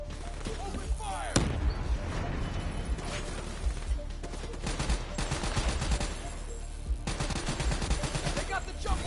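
Dense video-game gunfire rattles through a busy in-game battle, with bursts of rapid shots and sharp impacts overlapping game voices and effects throughout.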